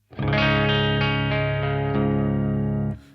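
A guitar played through a Boss OD-200 Fat Distortion pedal on its clean setting rings out one sustained chord for about three seconds, loud and alone, then cuts off.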